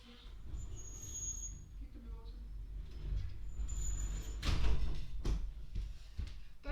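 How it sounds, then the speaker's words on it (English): A glass sliding door, not fully closable, slides shut in a quiet room, a faint rolling rumble followed by a few soft thuds and knocks near the end, with faint background sound underneath. "It's like a glass sliding door."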